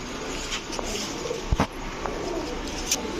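Pigeons coo softly and repeatedly among a flock of Bombay pigeons, with a few sharp flutters or knocks mixed in against a busy background.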